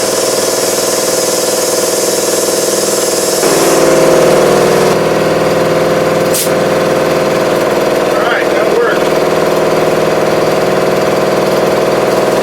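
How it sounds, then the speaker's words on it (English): Loud, close, continuous mechanical drone of an air compressor running while a skid steer tire is inflated, a steady pulsing engine-like rumble that shifts pitch partway through, with a brief sharp hiss and faint talk underneath. "Compressor going right there in my ear"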